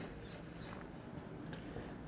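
A pen writes a math formula by hand on paper, a faint, steady scratching heard close up with no talk.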